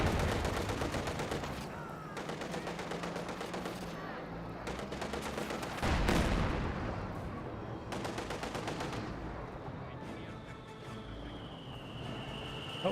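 Artillery barrage in the strategy game Company of Heroes 2, with fuse shells landing amid rattling gunfire, repeated bursts and blasts sounding loud and close throughout, a dense continuous battle din.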